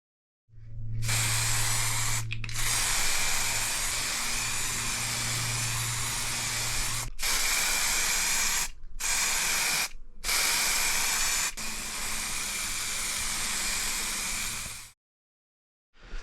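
Aerosol spray paint going onto rusty BMW M50 turbo build parts for a second coat: long loud continuous hissing bursts, close up, broken by a few brief pauses and ending in silence, with no talking.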